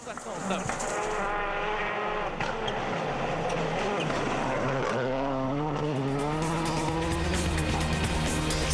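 A rally car engine on a stage at Wales Rally GB 2006 revs hard and climbs in pitch as the car drifts, loud and continuous, with a commentator talking over it.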